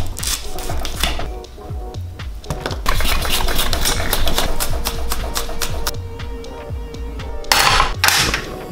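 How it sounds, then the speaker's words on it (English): A knife chops a jalapeno on a cutting board with rapid, steady, close-up strokes that run almost without a break, and a few sharper knocks come near the end. "So first start off by cutting up this jalapeno."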